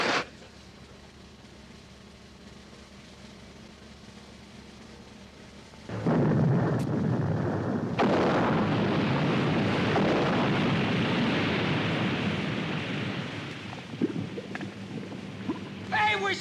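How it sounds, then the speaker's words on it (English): Depth charges exploding as a sound effect in a 1963 McHale's Navy TV episode, a sudden loud roaring blast that swells into a sustained rumbling wash for several seconds before fading, with a voice briefly heard after. "Fire the charges!"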